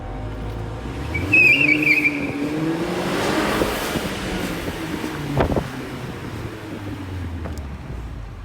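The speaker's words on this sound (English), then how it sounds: "that was the tires that screeched" A Mercedes-Benz CLA AMG backing up lets out a sustained tire screech over the steady hum of the running engine, loud and close, with gusts of wind noise and a couple of dull thumps.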